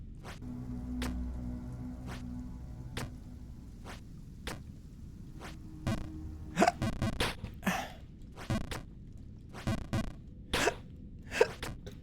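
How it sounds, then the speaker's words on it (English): A run of short, sharp hiccups, irregularly spaced, growing more frequent and louder in the second half, heard alone without speech. "Ugh, hiccups."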